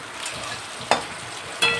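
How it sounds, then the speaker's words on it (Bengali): Sliced onions and green chillies frying in hot oil in a pan, a steady close sizzle broken by two sharp clatters as they are stirred. "পেঁয়াজ আর কাঁচা লঙ্কাগুলো ভাজা ভাজা হয়ে গেল"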